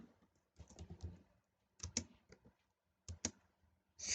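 Someone types code on a computer keyboard in irregular bursts of soft, close clicks with short pauses between runs, fairly quiet overall.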